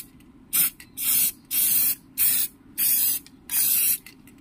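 Quick-drying clear lacquer finisher, Bosny No. 190, sprays from an aerosol can during an audio amplifier repair: six sharp, close hissing bursts, mostly about half a second long, separated by short silent pauses.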